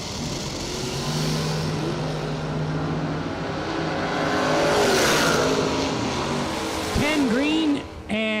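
An Opel GT drag racing car at a season kick-off meet: a loud engine roar builds and swells near the middle, with a sharp rising rev and whine near the end, under faint commentary.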